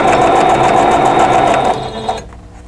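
A sewing machine stitching fabric runs loud and close in a steady fast whir with a rhythmic needle pulse, then stops abruptly near the end.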